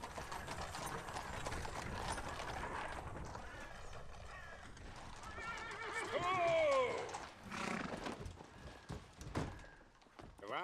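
Horses whinny loudly amid hoof clip-clops and a wooden thunk, a sharp neigh rising near the middle, with talk and film-scene background noise around it.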